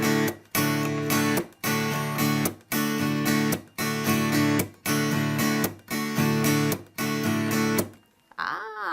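Acoustic guitar strummed in a steady rhythmic pattern for a song, with regular percussive muted slaps breaking the chords about once a second, played solo and close, then a final sliding note.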